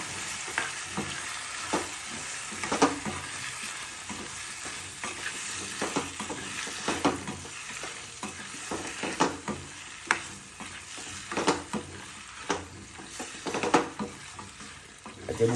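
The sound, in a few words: stirring spiced vegetables in a pan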